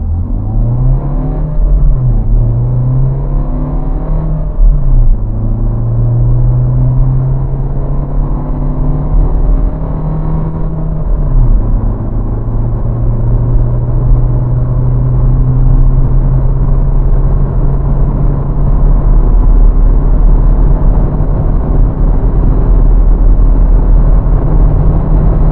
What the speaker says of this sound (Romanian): accelerez la podea